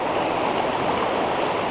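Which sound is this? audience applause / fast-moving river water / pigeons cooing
fast-moving river water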